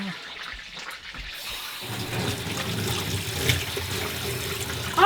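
Water being poured and trickling into a cooking mixture in a rural highland kitchen in Turkey, a close, steady splashing flow that builds after a brief quieter start, with faint voices in the background.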